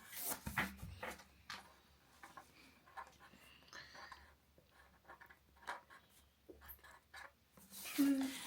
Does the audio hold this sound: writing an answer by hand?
yes